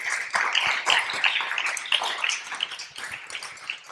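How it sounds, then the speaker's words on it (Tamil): Crowd clapping at a Tamil Christian sermon gathering, a continuous patter of many hands with sharp individual claps standing out, moderately loud and sustained with no talk over it. "நல்லா கைத்தட்டுங்களா?"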